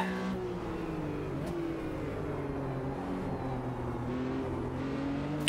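Porsche RSR race car engine in the Automobilista 2 video game, accelerating with a steady, loud, continuous drone that rises and shifts in pitch through gear changes, heard alone without voices.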